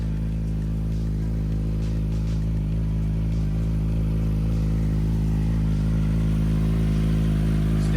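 A Suzuki GSX-R 600 stunt bike rides around an apartment complex, its engine giving a steady, loud, close drone with a strong low hum and no clear revving peaks.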